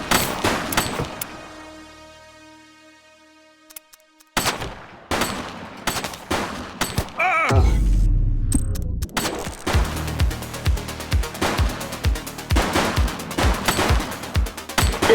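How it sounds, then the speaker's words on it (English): Gunfire in The Precinct, a police video game: rapid bursts of close, sharp shots, some in fast automatic strings, with a brief lull and a low rumbling thud partway through before the shooting resumes densely. "She's shooting!"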